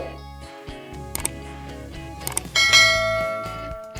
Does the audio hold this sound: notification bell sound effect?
yes